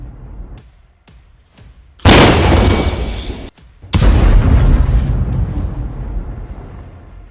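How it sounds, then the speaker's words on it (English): Tank gunfire in combat: a few faint distant thuds, then two loud booming blasts close by, each rolling on into a long rumbling decay. "The tank suppresses Russian forces with precise fire supporting the Bradley."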